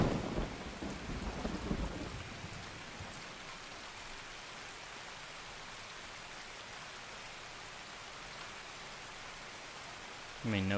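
Steady rain falls in the video game Escape From Tarkov, a continuous hiss of downpour that persists throughout, with brief louder noise and a voice at the start and end.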